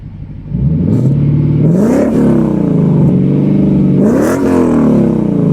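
A Lexus fitted with a GTHaus Meisterschaft exhaust runs with its valves closed, the engine humming low and steady, then rising in two brief revs before settling back to idle.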